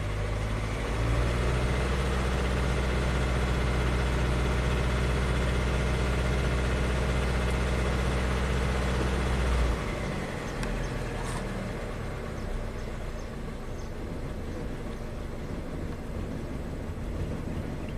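A car engine with misfiring cylinders idles with a rough, uneven low hum, then the RPMs are raised slightly partway through and the tone shifts to a busier, uneven running sound.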